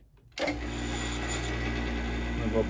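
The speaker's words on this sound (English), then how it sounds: "I am gonna turn on the vacuum pump and let's see" Vacuum pump switching on for bubble leak testing of metallic floats, starting abruptly after a short quiet moment and then holding a steady, loud mechanical hum and whir through to the end.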